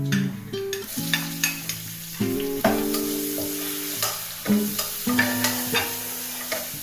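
Tomato sautéing in a hot pan for chicken rice, a steady sizzle with repeated stirring scrapes and clinks of a spoon against the pan, close by and without talk.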